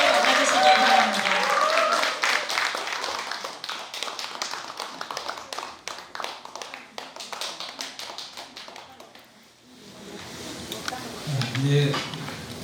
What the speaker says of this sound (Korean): 여러분 큰 박수로 스님을 맞아주시기 바랍니다.